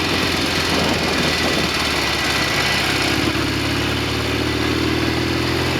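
A Norton Commando 750 motorcycle engine with carburation trouble runs at a close, loud, steady idle, its low throbbing pulse continuous with no speech.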